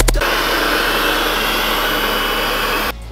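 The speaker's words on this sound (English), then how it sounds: "Time to use a heat gun on that" A heat gun blows on a heat shield being fitted to a Ford Galaxie to guard against fuel fire. It makes a steady, loud, close whooshing roar that runs unbroken and then cuts off abruptly near the end.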